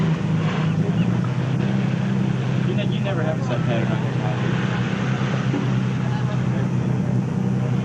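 An idling whale-watching boat engine gives a steady low rumble under close, continuous talk from people on board.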